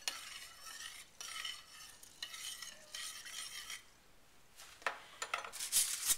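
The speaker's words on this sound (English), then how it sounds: "Okay, and now I'm just going to stir it around." Brown rice and water being stirred with a utensil in a baking dish, soft close scraping and swishing in short, uneven strokes with faint clinks, fairly quiet and without talk.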